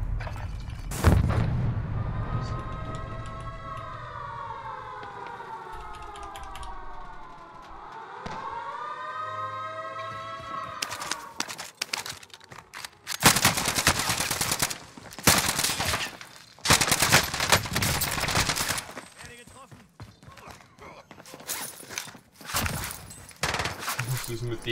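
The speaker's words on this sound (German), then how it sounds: "da schießen vom Dach runter" Rooftop gunfire in the video game Call of Duty Warzone: bursts of automatic fire and single shots in the second half, preceded by a rising-and-falling siren-like wail and a heavy boom, with a voice speaking briefly among them.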